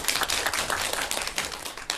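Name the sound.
audience applause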